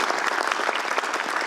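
An audience at a children's literary competition reception applauds a young reader. The dense, loud clapping is continuous and even for the whole short stretch.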